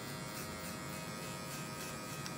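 An electric hair clipper buzzes steadily and fairly quietly at close range during a classic haircut at a barber training session.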